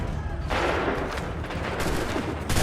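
A volley of massed musket gunfire erupts in the Assassin's Creed 3 video game, a loud, dense crackling roar of overlapping shots that keeps rumbling for a couple of seconds.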